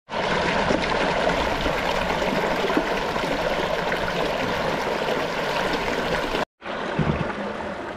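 A clear, shallow river stream flows and trickles steadily in a rural outdoor setting, a loud, continuous rushing wash close by, broken by a brief cut near the end before resuming.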